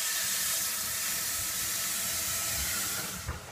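Water poured into the bottom pan of a preheated oven for baking bread hisses and steams in a continuous, close sizzle that tapers off near the end.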